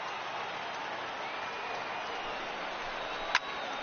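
Baseball stadium crowd in MLB 18 The Show, a Rays at Athletics afternoon game, gives a steady, distant roar of cheering with a brief sharp crack near the end.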